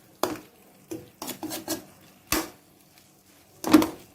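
Short metallic scrapes and taps of a spoon against a cooking pan as masala is gathered from the sides toward the center, in about seven uneven strokes, close and clear with no voices.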